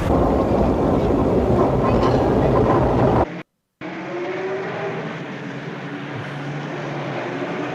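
A 1923 Canadian Pacific Railway train rolls across Canada with a steady, loud rumble and clatter of rail cars, broken by a brief cut to silence midway, then a slightly quieter, continuous rolling noise.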